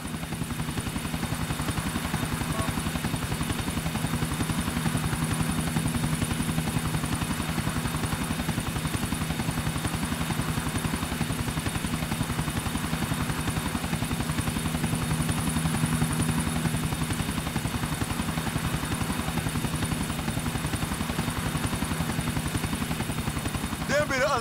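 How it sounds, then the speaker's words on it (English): Helicopter in GTA 4 with a loud, constant rotor thump beating in fast, even rhythm close by, steady engine drone throughout, and occasional voices buried beneath the noise. "Chopper, stick to him, Nico."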